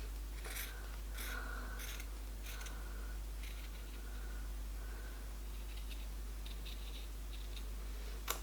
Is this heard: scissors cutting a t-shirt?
yes